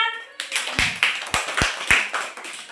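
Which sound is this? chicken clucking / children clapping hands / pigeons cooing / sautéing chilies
children clapping hands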